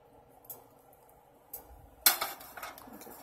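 A utensil scrapes and clinks against a cooking pot while shrimp is stirred into a creamy Alfredo sauce, a few sharp metallic knocks and scrapes with quiet pauses between them and no voices.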